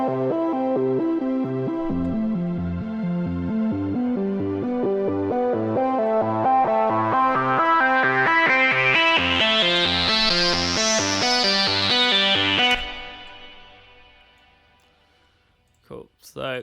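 A full music mix with a sustained pad and layered tones plays through a Slate FG-224 plate reverb plugin, building in brightness and then fading into a long reverb tail before a few brief clicks at the end.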